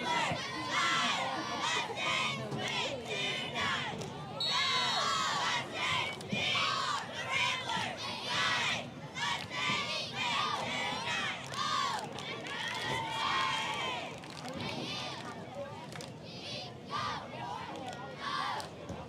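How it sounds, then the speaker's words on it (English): Cheer squads from both middle school football programs shout and chant from the stands during a game at King Stadium, a dense, continuous wash of young voices with rhythmic bursts and overlapping yells throughout. "Still hearing from the cheering squad of both programs."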